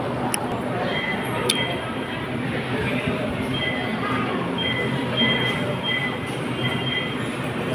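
Inside a moving LRT light rail car in Manila, a steady roar of wheels on track with faint metallic squeals and clinks, while voices murmur now and then.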